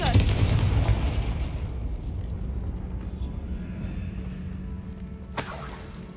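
A heavy blast from the Confringo explosive spell in Hogwarts Legacy opens loud and booming, then fades into rumbling ambience, with a second sharp burst near the end.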